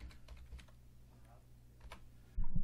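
A few light computer keyboard taps, quiet and close, over low room hum, ending in a brief louder thump.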